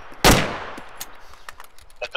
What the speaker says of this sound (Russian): Да, я стреляю по нему